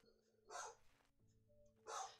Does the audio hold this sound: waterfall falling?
no